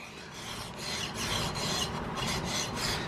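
A file rasps along a rifle barrel on a Gemmer Hawken build during draw-filing, with close, quiet rhythmic strokes repeating about every half second, no voices.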